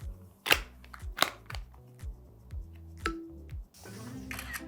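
A series of sharp iPhone 16 Pro Max camera shutter clicks and snaps at irregular intervals, with brief thumps between them, close and fairly quiet.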